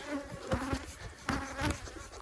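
Honey bees swarming from a strong hive, buzzing close by in rising and falling passes around a beekeeper in a bee suit, fairly faint.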